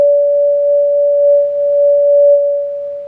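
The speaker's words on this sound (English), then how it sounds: "Start with a sine wave." A pure synthesized sine wave drone holds one steady mid-range pitch, loud and clean with slight wobble, sustained alone for three seconds before easing off at the end.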